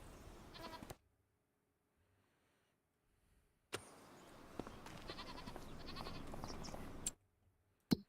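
Goats bleating in the Farming Simulator 25 video game, a few loud bleats near the start and a longer stretch of repeated bleating later, with short gaps of near silence between.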